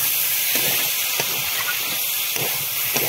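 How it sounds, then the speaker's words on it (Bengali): Potatoes tipped into hot oil with fried spices in a Bengali pomfret curry sizzle and hiss steadily and loudly, with a few soft stirring knocks over the constant frying. "এখন দিয়ে দেবো আলুগুলো"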